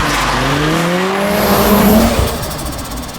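A turbocharged Mazda MX-5 Mk1 engine revs hard and rises in pitch up close, with tires squealing as it slides while drifting, then eases off.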